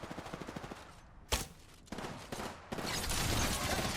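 Rampart's minigun in Apex Legends fires in sustained loud bursts, with a sharp crack near 1.3 seconds and dense rapid gunfire filling the second half.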